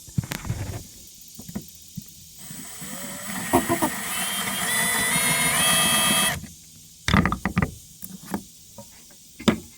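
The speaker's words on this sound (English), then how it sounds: "every hole I drill, we'll put a screw in there" A power drill whirs in short bursts with a longer steady run in the middle, drilling screw holes for a winch on a sailboat, close up, with clicks and handling noises between.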